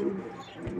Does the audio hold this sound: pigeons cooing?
yes